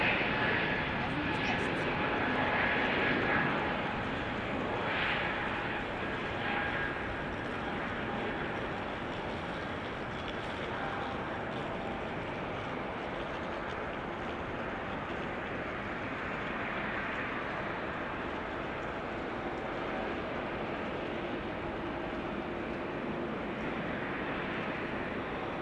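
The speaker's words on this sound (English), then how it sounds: "Malta, A320neo to Malta" An Air Malta Airbus A320neo at Amsterdam Schiphol gives a long, steady jet engine rumble, a little louder at first and then evening out at a moderate distance, with talk passing over it.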